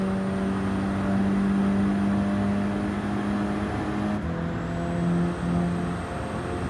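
A car engine in a racing video game, running on stock suspension, holds a steady, droning hum near full speed, with a slight shift in pitch partway through.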